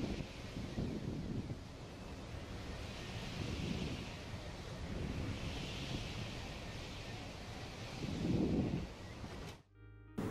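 Strong cyclone winds roar in Chennai with crashing waves, a dense, continuous gusting rush that swells and fades in waves. The sound cuts off abruptly near the end.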